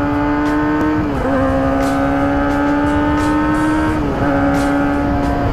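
Kawasaki ZX25R motorcycle engine droning loud and steady while riding, its high whine dipping briefly twice as the revs drop and climb again.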